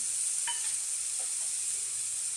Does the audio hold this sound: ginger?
yes